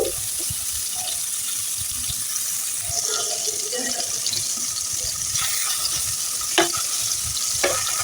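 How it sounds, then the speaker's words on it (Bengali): Turmeric, salt and chili-coated fish fries in a pan, with a continuous close sizzle, a few soft knocks and scrapes as the fish is turned, and no talk. "হলুদ লবণ মরিচ মেখে মাছটাকে হালকা করে ভেজে নেব"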